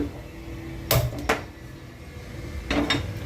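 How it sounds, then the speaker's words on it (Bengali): A pressure cooker set down on a kitchen stove with loud metallic clanks, a pair of close knocks followed by two more a moment later over a steady low hum. "কুকার বসিয়ে দিলাম।"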